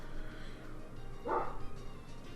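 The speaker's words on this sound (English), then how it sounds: "I wish that dog would stop barking right now, I swear to God." A dog barks from downstairs inside a house, one short muffled burst of barking heard faint and distant against quiet room background.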